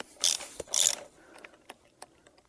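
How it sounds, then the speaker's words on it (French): A top nut being undone on a shock absorber spring held in a hydraulic spring compressor, two short bursts of rapid ratcheting clicks followed by scattered light metallic ticks, close and alone. "je vais pouvoir défaire l'écrou du haut"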